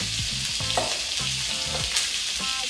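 Beef sizzles steadily in a hot pan for Mauritian fried rice, a constant bright frying hiss with low harmonic tones and occasional stirring scrapes, no talk.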